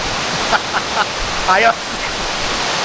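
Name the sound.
Tamaraw Falls waterfall rushing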